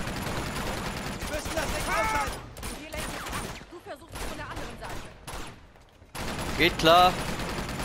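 Bursts of heavy gunfire from a large mounted gun in Uncharted: Among Thieves come as rapid, loud volleys separated by short gaps, with two players talking over them.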